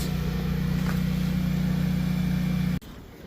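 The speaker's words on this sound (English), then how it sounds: "My generator just started" A generator runs with a loud, steady low drone, then cuts off abruptly near the end, leaving a quiet outdoor background.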